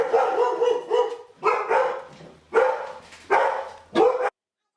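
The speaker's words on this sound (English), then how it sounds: "all the world goes crazy with barking" Dogs in a new house bark at a ringing doorbell, about five loud, close bursts in quick succession with short gaps, then silence.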